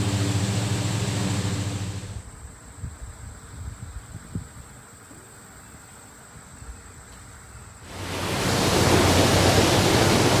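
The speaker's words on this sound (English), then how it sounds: "this is our overflow from the spring" Overflow from a spring runs off toward a creek, a steady broadband rush of flowing water that cuts out abruptly midway, leaving quiet ambience, then returns loud and close.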